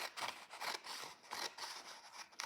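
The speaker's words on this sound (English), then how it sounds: "So you'll notice when I'm cutting, I make sure the page is angled so I can cut away from myself." Scissors cutting paper, a close, quiet series of crisp snipping and rasping strokes in a steady rhythm, with no voices.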